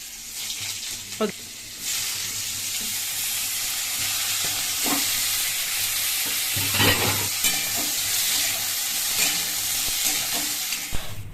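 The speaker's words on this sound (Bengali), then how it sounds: "এই দেখো বন্ধুরা এই তেলের মধ্যে আমার ফুলকপিগুলো ভাজবো" Cauliflower frying in oil gives a constant, close sizzle, with occasional scraping and stirring knocks in the pan and no voices.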